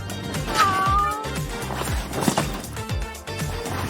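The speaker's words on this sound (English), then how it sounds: "But this time, we're going with cats." A cat meows once, short and clear, amid busy background noise and scattered knocks.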